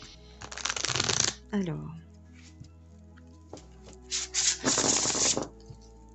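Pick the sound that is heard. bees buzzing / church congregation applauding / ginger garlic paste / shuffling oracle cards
shuffling oracle cards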